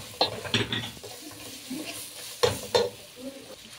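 Fish sautés in a pan with cinnamon and curry, giving a soft sizzle under scattered stirring scrapes and a few sharper clinks of a utensil against the pan.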